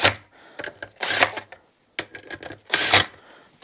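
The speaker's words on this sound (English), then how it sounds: "we're going to use the gun just to nip these down in a nice diagonal pattern" A power gun snugs down sprocket bolts in a diagonal pattern during a chain and sprocket replacement. Short, rattling bursts come close together, then more follow after a brief gap.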